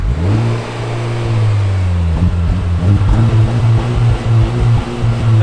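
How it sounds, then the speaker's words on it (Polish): A Honda car engine revs hard and loud, with deep throbbing exhaust rumble rising and falling repeatedly, close by and continuous. "Dlaczego ja bardziej słyszę silnik niż wydech?"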